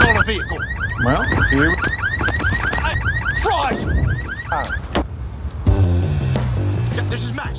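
A car alarm blares in a film scene at a NASCAR race where a racer's $85,000 car has caught fire, looping rapid rising chirps and whoops loudly, then switching to a steadier droning tone near the end.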